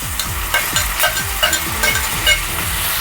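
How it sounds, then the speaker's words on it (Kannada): Tomatoes go into a pan of softened onions, sizzling and frying steadily while a utensil scrapes and stirs in repeated strokes, close and fairly loud with no talking. "ಇದಕ್ಕೆ ಟೊಮೊಟೊ ಸೇರಿಸ್ತಾ ಇದ್ದೀನಿ."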